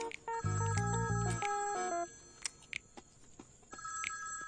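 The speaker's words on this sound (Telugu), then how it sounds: "ఫోన్ మోగుతుంది, తీసుకురాపో" A telephone rings loudly and close in a burst of bright electronic tones lasting about two seconds, then fainter tonal chirps follow, with no talk over it.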